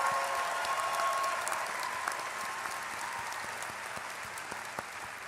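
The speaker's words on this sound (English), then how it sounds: "Give yourselves a round of applause." Graduating medical school class and audience at a commencement ceremony break into sustained applause, a dense wash of clapping that stays steady and fairly loud throughout before easing slightly toward the end.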